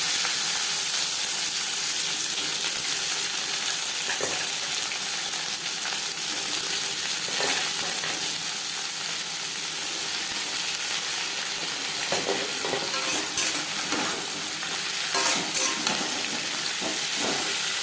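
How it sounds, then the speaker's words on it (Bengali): Bitter gourd fries in hot oil with a broken dry chili and whole cumin seeds, giving a steady, loud sizzling hiss that stays constant throughout with occasional crackles and stirring scrapes, with no talking. "পনেরো কুড়ি সেকেন্ড ভেজে নেওয়ার পর দিয়ে দেবো উচ্ছে"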